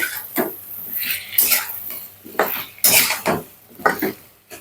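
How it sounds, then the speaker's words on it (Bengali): Eggplant and spices being stir-fried in a pan give off repeated metallic scrapes and clinks of a utensil against the pan in irregular bursts, close and fairly loud, with a faint background hum. "এখন বেগুনগুলোকে আমি খুব ভালো মতো করে কষিয়ে নিব।"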